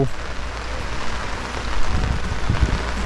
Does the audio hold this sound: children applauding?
no